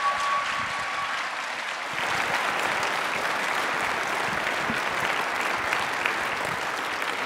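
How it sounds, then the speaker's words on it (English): A concert audience at a keyboard festival applauds the Midland piano teachers, a broad, sustained round of clapping filling the hall, building after a brief start and holding steady. "let's give them a great big round of applause"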